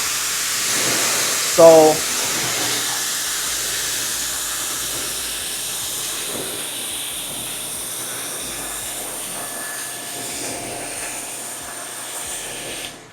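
A car being rinsed with water before a ceramic coating adhesion check gives a steady, fairly loud spray hiss that runs throughout, with one brief word spoken early on.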